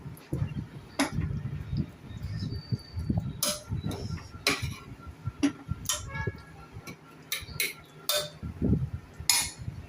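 A spoon clinks and taps against a pressure cooker while prawn biryani is layered inside, with scattered sharp metallic ticks and scrapes at irregular intervals up close, over a low background murmur.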